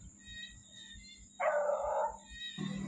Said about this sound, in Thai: ไอ้เตี้ยของเราไปเห่าที่นาเขา